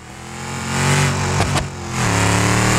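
A track-version car engine in BeamNG revs up loudly, dips briefly, then surges again into a steady high-pitched roar, continuous and close with no talking.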